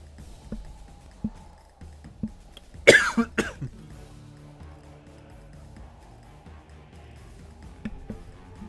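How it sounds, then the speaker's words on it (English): A person coughs in a quiet room after a drink goes down the wrong way, one sharp burst followed by a few smaller coughs and throat clearing, close to the microphone. "I'm going to cough absolutely again"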